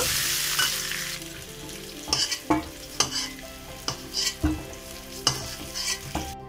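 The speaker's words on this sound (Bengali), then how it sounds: "লবণ আর হলুদ দিয়ে আলুগুলো ভালো করে লাল লাল করে ভেজে নিতে হবে।" Potatoes frying with salt and turmeric in a pan, a continuous sizzle broken by repeated scraping stirs and clattering utensil strokes, close and fairly loud with no voices.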